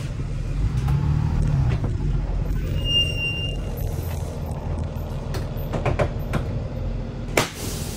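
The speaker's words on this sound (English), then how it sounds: "I'm going to move the bus 5 to 6 feet." A school bus idles and creeps slowly forward during a pre-trip inspection, a steady low engine rumble with brief clicks and a sharp clunk near the end, no voices.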